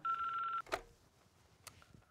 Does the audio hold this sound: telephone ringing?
yes